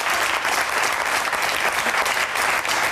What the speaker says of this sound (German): Klatsch ruhig, wenn du der Meinung bist